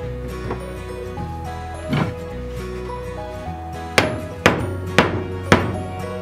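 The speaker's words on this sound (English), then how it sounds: "Hammer all the vertical pieces." Sharp hammer blows on vertical wooden pieces, a few scattered strikes then four louder evenly spaced knocks near the end, over a steady low hum.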